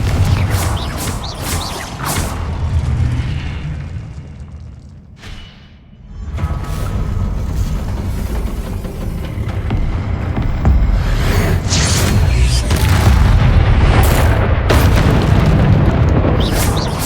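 Confringo blasting spells in Hogwarts Legacy explode as repeated loud booms and bursts amid constant combat rumble. Noise stays dense throughout apart from a brief lull near the middle.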